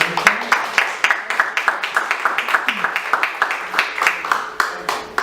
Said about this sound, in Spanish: Compartimos un fuerte aplauso, por favor.